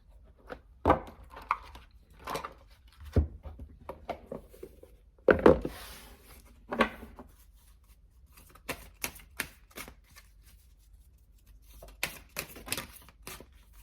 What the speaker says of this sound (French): Allez, je prends une dernière carte.